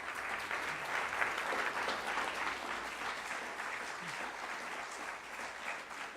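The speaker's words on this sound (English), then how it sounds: "So y'all remember that applause thing" Applause from an audience at a candidates forum, an even spread of clapping across a hall heard from a moderate distance, with no talking over it.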